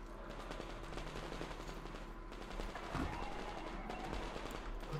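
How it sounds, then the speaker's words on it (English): Gunfire from the Metro Exodus video game crackles in steady, moderately loud bursts, swelling into a sharper cluster of shots midway through, with no talking. "This guy's shooting over here."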